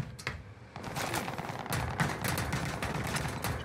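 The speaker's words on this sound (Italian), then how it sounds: "Si sparano adesso tra di loro." Rapid bursts of gunfire between enemy players in a shooter video game, a dense clatter of overlapping shots with sharp individual cracks, fairly loud and continuous with no talking.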